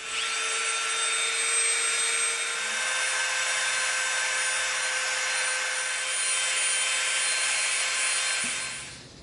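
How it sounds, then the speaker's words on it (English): Dremel rotary tool with a bit cleaning contact cement residue off EVA foam, a loud, steady high-pitched whine that holds nearly constant before spinning down at the end, close and alone. "We used our Dremel bit to clean off some contact cement residue that was on here."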